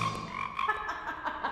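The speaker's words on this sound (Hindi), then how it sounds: "मेंढक।" A short frog croak sound effect plays as a throaty, rattling call with a few quick pulses, loud and close, lasting just over a second with no speech.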